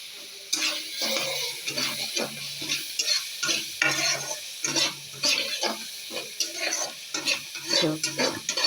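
Mustard oil frying with salt and turmeric in a pan, a steady sizzle broken by repeated scraping stirs at a fairly even rhythm, close and alone with no talk.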